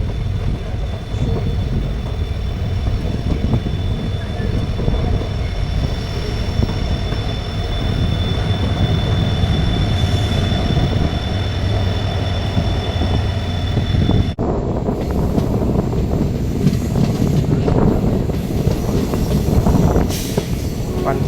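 A train rolls slowly along a Kerala railway line near Edamon on the Punalur–Thenmala route, giving a steady, continuous rumble with some wind noise throughout.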